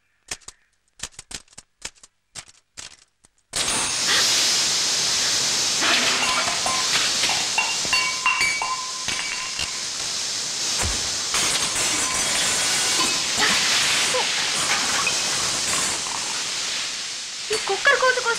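A pressure cooker releases a loud, sustained hiss of steam after a few sharp clicks, the rushing noise filling the space with slight fluctuations and a brief thud near the middle.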